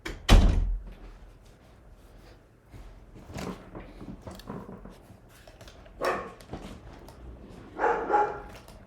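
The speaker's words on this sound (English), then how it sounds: "I'm gonna shut my door" A room door is shut with one sharp, loud thud at the start, followed by quieter dog barks and household movement nearby.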